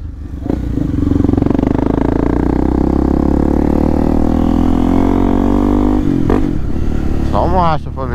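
A Honda XRE 300 with an aftermarket exhaust drones loudly at close range while riding at night. The engine holds a steady, rough tone with wind rush, then the note drops and wavers as the rider shifts and slows near the end.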